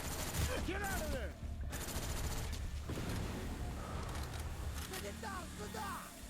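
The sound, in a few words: gunfire from a video game, Call of Duty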